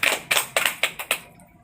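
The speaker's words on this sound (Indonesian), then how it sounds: "Kita tepuk tangan untuk Bapak Ino ya." Short, sparse applause for Bapak Ino from a small group, about half a dozen crisp hand claps in under two seconds before fading out.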